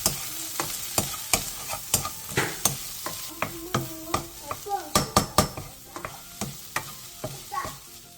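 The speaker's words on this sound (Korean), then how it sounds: "계란이 3분의 2 정도 익으면 토마토를 넣고 2분 정도 더 볶아주세요." Egg and tomato stir-fried together in a pan at home: repeated scraping and clacking strokes of a utensil against the pan over a steady soft sizzle, close up, with no talk.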